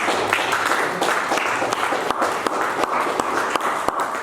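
A church congregation claps and cheers for Jesus during a sermon, sustained dense applause with sharp individual claps throughout.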